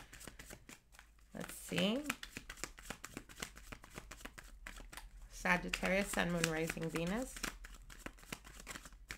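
Tarot cards are shuffled in quick, crisp riffles, a dense rapid patter close by, while someone speaks softly between bursts.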